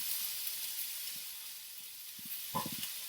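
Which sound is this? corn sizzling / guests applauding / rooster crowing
corn sizzling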